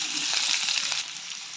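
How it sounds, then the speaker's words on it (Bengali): Pieces of taro (kochu) fry in hot oil, a loud close continuous sizzle with a crackling bubbling texture that eases slightly partway through. "কচুটা ভাজা হচ্ছে এখনও।"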